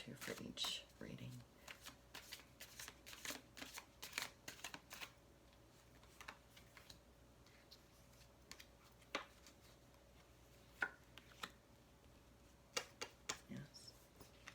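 Tarot cards are shuffled for a reading in a series of soft, quick riffling and tapping bursts, scattered and irregular, close by and quiet, with occasional faint voice in the background.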